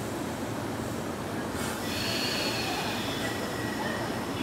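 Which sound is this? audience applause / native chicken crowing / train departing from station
train departing from station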